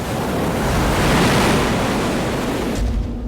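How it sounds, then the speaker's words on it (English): A heavy ocean swell crashes over a reef onto a stricken boat, a loud, dense roar of surf and wind rushing for about three seconds before easing off abruptly. "yet another ocean swell crashes over the reef and unleashes its full fury on the"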